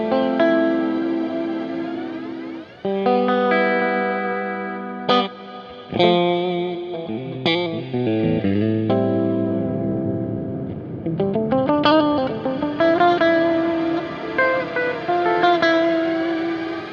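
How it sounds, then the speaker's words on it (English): An electric guitar played through an IK Multimedia X-Space pedal set to a subtle modulated reverb in heel position, with sustained chords and single notes ringing out with shimmering, chorused tails, loud and alone. "in heel position, it should be the subtle reverb"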